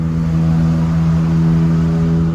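Loud, steady engine drone heard from inside a car on a road trip, a constant low humming rumble with no speech over it.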